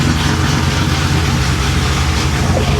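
A 1966 Chevrolet Impala V8 idles steadily at around 1,000 RPM, a continuous loud low rumble filling the clip on its own without talk.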